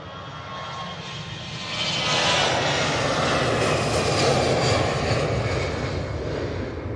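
EasyJet airliner jet engines roar at Manchester Airport, a broad sustained rumble that builds around two seconds in and stays loud and steady.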